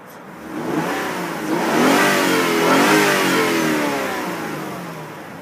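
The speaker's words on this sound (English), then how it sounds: "I'm going to place the iPad on the engine so that you can hear it." A 1999 Mazda 626 LX V6 engine revs up loudly and close, rising and falling in pitch over several seconds before settling toward idle.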